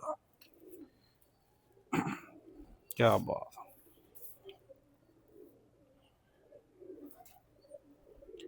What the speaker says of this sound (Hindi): बहुत बड़ा कबूतर है मेरे अच्छे